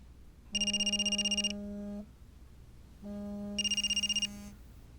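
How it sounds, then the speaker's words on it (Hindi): A telephone rings twice in a home, each ring a steady electronic tone followed by a rapid warbling trill, separated by a pause, moderately loud and alone. "तुम्हारे घर से फोन आ रहा है?"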